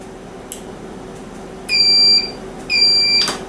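A vacuum sealer gives two loud, steady electronic beeps, each lasting about half a second, marking the end of a sealing cycle on powdered goods. A quieter click comes before them, and a low motor hum runs underneath throughout.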